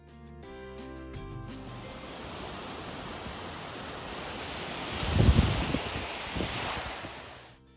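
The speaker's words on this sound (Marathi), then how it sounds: "अचानक दुपारी थोडीशी हवा सुटल्यामुळे बीचवरती मोठ्या लाटा यायला सुरुवात झाली." Big waves roll onto a beach in Ontario as wind picks up, a continuous surf roar with gusty wind buffeting the microphone and one heavier wave crashing louder near the end.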